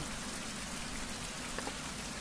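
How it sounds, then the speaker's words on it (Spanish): Rain falls outdoors in a steady, dense patter on surfaces, an even wash of droplets with no pauses, soft and continuous throughout. "está lloviendo, no importa, no pasa nada"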